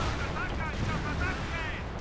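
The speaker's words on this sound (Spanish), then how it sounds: "Aquí empezó a haber explosiones por un tubo." Explosions and artillery fire from a Company of Heroes battle with mortars, grenades and anti-tank guns, a continuous dense rumble of blasts and bangs throughout.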